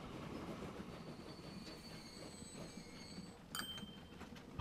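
A long train rolls along the track in Transport Fever 2, giving a soft continuous rumble with faint wheel squeal tones and a sharp clack near the end, all fairly quiet and without talk.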